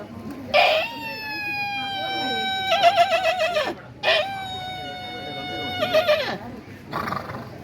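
A person at a Kannada cultural festival vocally imitates a horse neighing, producing two loud, close whinnies, each rising and then breaking into a shaky, trilling tail.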